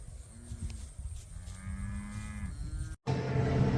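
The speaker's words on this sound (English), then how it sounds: "Oh yeah, that's our heifer right here. She's a registered heifer, one of our registered cows, and Rubble." A registered heifer on a farm moos in a couple of low, drawn-out calls at moderate distance, followed by a sudden louder burst of rumbling noise after a brief cut.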